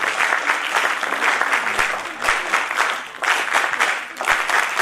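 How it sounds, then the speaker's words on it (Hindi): Steady, full audience applause fills a hall at an International Women's Day event honoring mothers, loud and sustained with dense clapping that swells slightly in waves throughout. "आपकी तालियां निरंतर इस प्रकार बजती रहें"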